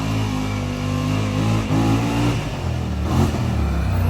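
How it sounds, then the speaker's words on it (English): A Yamaha UTV engine at a Glamis dune camp, loud and close with a steady throaty drone that rises and dips through a couple of revs as the vehicle pulls in. "I hear some kind of a UTV."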